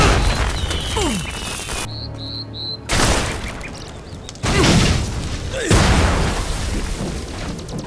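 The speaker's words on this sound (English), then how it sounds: "weird coding that makes destructible objects next to you explode or catch fire, then explode" Shotgun blasts in a first-person shooter game set off nearby destructible objects, with several separate booming explosions each followed by crackling debris, loud and close, split by short quiet gaps.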